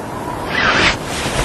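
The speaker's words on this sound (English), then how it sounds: "Wow, it's so windy and cold." Steady wind rushing through a cold, blustery outdoor scene, a continuous broadband whoosh that swells slightly in the middle and stays fairly loud throughout, with no voices.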